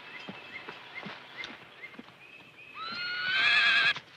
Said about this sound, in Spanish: que el caballo va a ir al paso.